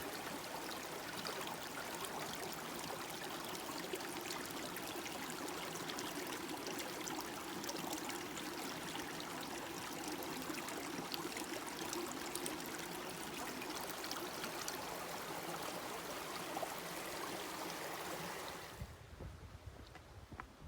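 Spring water flows steadily out of the Bethel Spring in a wooded nature preserve in December, a continuous close trickling and gurgling wash that runs alone for most of the time, then cuts off abruptly near the end.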